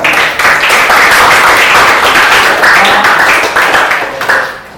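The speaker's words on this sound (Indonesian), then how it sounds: "Tepuk tangan kalian semua." A classroom of students applauding: loud, dense clapping from many hands, sustained evenly before tapering off at the end.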